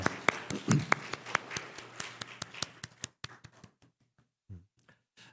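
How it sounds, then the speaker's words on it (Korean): A church congregation claps through a Sunday service, a dense run of sharp handclaps that thins out and stops after about three seconds, leaving a few last scattered claps. "우리 하나님께 감사의 박수 한번 드리겠습니다."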